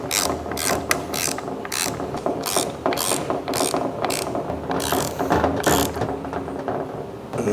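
Ratchet bolting down the valve body of a Mercedes MCT transmission, a rapid run of clicking pawl bursts repeating in quick strokes, close and steady throughout with no talking.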